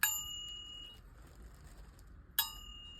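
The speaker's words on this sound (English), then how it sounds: "So I got this brass bell." A vintage brass bell is struck twice, each ring opening with a bright metallic clang and fading into a clear sustained tone, the second ring coming about two seconds after the first.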